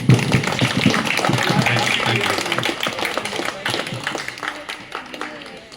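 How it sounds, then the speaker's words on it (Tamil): Loud applause from the audience at a women's association trust event for Christmas, New Year and addiction rehabilitation, dense clapping at first that thins and fades over a few seconds, with voices talking over it. "ஒரு பலத்த கரகோஷம் கொடுத்து நன்றி சொல்லி அனுப்பிச்சு"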